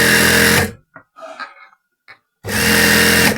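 Salwar border being stitched on a sewing machine: a loud, steady mechanical whir runs for about half a second, cuts to near silence with a few faint clicks, then starts again and runs strongly to the end.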